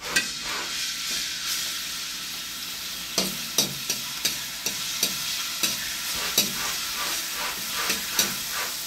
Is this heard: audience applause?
no